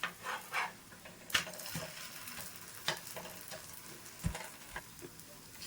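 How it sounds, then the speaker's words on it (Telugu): Neti bobbatlu, sweet stuffed flatbreads, roasting slowly in ghee on a pan and being turned side to side, giving a soft steady sizzle with a few sharp clinks and scrapes of the spatula against the pan. "మనం రెండు వైపులా ఇలా తిప్పుకుంటూ స్లోగా మనము కాల్చుకోవాలి."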